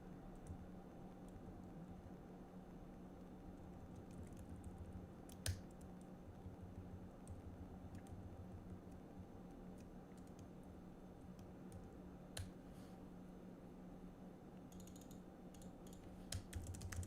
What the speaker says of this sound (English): I'm basically relaying what I'm typing in.